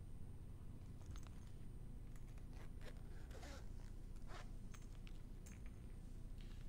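A zipper on the zip pouch of a diamond jewelry tool kit is pulled in a series of short rasping strokes, close and fairly quiet over steady background hiss.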